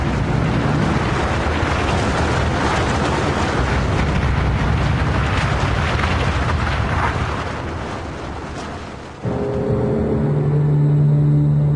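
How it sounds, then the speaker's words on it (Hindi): Atomic bomb Fat Man exploding over Nagasaki: a loud, sustained roaring blast rumble that thins out and drops away, then a sudden cut to a low steady tone. "फैटमैन में विस्फोट हुआ।"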